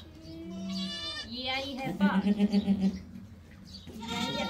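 A goat bleating just after giving birth, with several close, wavering bleats including a rapid pulsing bleat in the middle, mixed with a person talking nearby.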